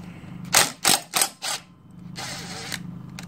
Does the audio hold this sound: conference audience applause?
no